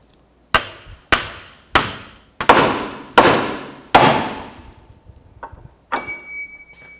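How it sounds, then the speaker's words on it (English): Hammer blows separate a lower ball joint from the front control arm on a 2008-2014 Cadillac CTS, six sharp metallic strikes in a steady rhythm, loud and close, followed by a few lighter taps and a faint ringing tone. "Now I'm going to separate the ball joint right here."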